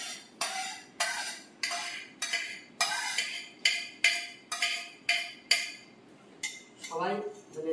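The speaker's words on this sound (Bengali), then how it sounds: "এক চামচ মতো দই নিয়ে নিচ্ছি, এটাতে ফেটিয়ে দিলাম" Yogurt whisked with a spoon in a bowl, a run of about a dozen crisp, regular metallic clinks close up, each with a short ringing tail, ending with a brief voice.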